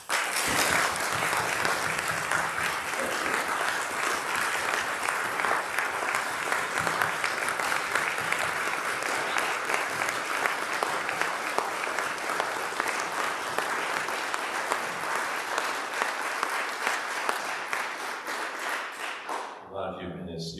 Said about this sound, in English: that's what inspired that applause